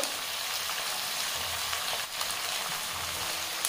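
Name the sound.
onion greens and tomato frying in a pan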